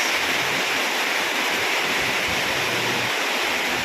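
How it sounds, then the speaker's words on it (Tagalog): Strong typhoon wind roars in a continuous, loud rush of noise buffeting the microphone, with no voices. "bugso ng hangin mataas"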